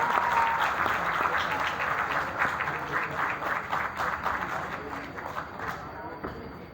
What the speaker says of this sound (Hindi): बहुत सारी तालियां आफ्ताब कामदार के लिए।